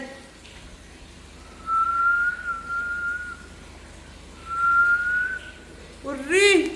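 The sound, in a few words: woman whistling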